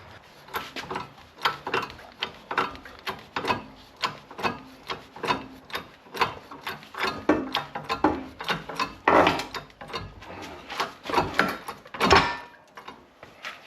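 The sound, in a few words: press removing failed bearing from BMW e61 xDrive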